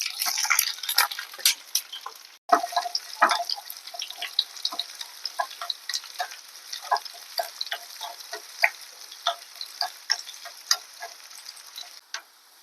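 Shallots and fenugreek seeds frying in a pan for prawn mango curry, giving a steady hiss broken by many sharp crackles and pops, close and alone, with one brief gap in the middle.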